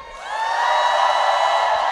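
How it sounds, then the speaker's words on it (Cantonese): A large outdoor concert crowd at an LGBTQ Pink Dot event in Hong Kong cheers and screams in a sustained, swelling roar that holds loud for two seconds, with high whoops riding on top. "可唔可以俾我聽多次你哋嘅歡呼聲？"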